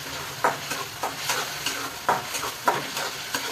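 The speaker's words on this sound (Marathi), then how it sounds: "आता 5 मिनिटं तरी कांदा चांगला बदामी रंगावर तळून घ्यायचा" Onions fry in a thin kadhai for a paneer curry, a steady sizzle broken by repeated scraping strokes of a spoon stirring, about one every half second, close and clear with no talking.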